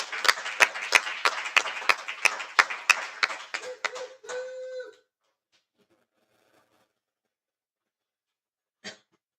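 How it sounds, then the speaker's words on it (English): Applause from an event audience greeting a speaker introduced as a great American patriot: a few seconds of close, sharp clapping that thins out and stops, then near silence with one brief later sound. "can we please get a big round of applause for a great American patriot?"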